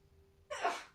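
A single short sneeze bursts out close and fairly loud after a quiet stretch of faint background hum, during a live Dark Souls III session.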